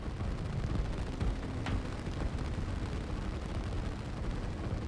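Muffled, continuous booming of artillery fire in the real-time strategy game Line War, a steady low rumble of distant impacts with no clear individual blasts.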